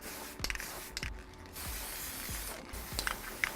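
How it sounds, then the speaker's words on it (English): Primer sprayed in short, even passes onto a miniature minecart model outdoors in damp, rainy conditions, a soft hiss in repeated bursts with small clicks and rattles from the can in between. "So we're just going to be priming the model. Nice even coats going across the model."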